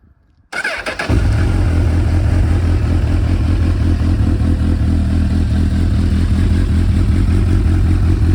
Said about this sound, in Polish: ale jak słychać motocykl wcale nie jest głośny. Bardzo fajny basowy pomruk